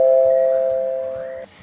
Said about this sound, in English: you will hear my Ring chime when my floodlight senses motion